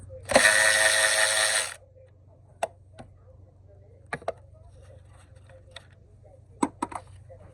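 A hand ratchet with a 12 mm socket works on a part of a 2014 Lexus IS250 during vapor canister purge valve replacement, a brief burst of close clicking followed by scattered sharp ticks and taps.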